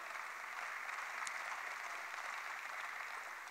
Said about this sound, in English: give Judy a round of applause